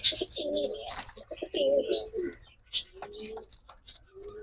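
Pigeons coo in soft, rolling bursts at close range, the calls overlapping with a few brief chirps and some low background noise.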